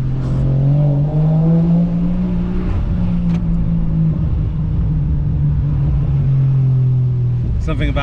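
An old car's engine revs and rumbles loudly and steadily on a morning street lined with houses and walls, with a brief burst of higher noise near the end.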